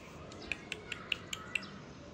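A blue-rumped parrot gives a string of about six short, sharp calls at a fairly even pace, crisp and close against a quiet background.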